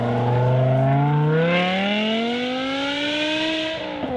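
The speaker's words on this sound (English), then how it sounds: "hear 10 separate throttles snapping open and closed, creating a mechanical orchestra" A BMW M5 Touring's V10 engine revs hard, a loud, close, high-pitched wail rising smoothly in pitch over several seconds before the throttle snaps shut near the end.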